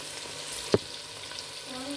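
Uncooked vegetables sizzling in a ghee tempering, a soft, steady frying hiss over two seconds with one brief clink near the start.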